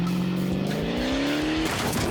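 Engine of a game car revving up a ramp and flipping over during a custom Junkyard Joust match: a steady rising motor whine with tire noise, loud and continuous, without talk.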